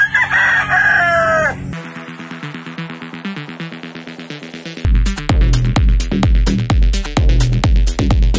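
A broodstag gamecock, a 3/4 Sweater 1/4 Boston cross, crows loudly and close, one long crow, followed by other sounds with steady rhythmic pulses.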